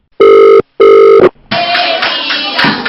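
Two long, loud trill bursts of a telephone ringback tone sound as a call is placed, then a burst of busy background noise and a voice as the line picks up.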